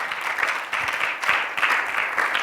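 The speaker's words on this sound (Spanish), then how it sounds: "Why don't we give a round of applause to God?" A church congregation claps steadily and fairly loudly, a dense, sustained round of applause with no voices over it.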